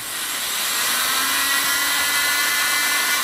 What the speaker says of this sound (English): I'm going to use these little snap-on sanding discs